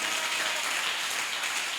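A church congregation applauds in worship, a continuous, even wash of clapping heard at a distance and fairly faint, with no pauses.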